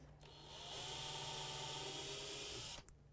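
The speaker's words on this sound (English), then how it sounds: "I'm going to pre-drill these holes." A power drill pre-drills holes into 12mm wood inside a narrowboat, its steady whine rising quickly and holding for about two seconds before cutting off sharply, loud and close with no talk.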